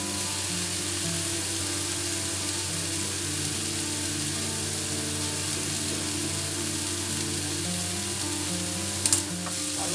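Spices sizzle steadily while being stir-fried with kaffir lime and lime leaves for a chicken dish, a continuous close frying hiss with faint stirring scrapes and a brief utensil knock near the end.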